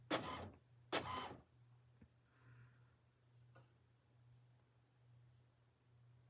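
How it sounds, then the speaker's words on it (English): Printer working through a page, two loud sweeping mechanical passes at the start, then a soft steady hum with faint ticks and clicks. "so that's in the process of printing"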